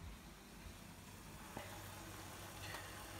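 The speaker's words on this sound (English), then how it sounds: "So it's already boiling." Instant Mi Goreng noodles boiling in a pot, a steady broadband bubbling hiss with a couple of faint clinks, continuous and close.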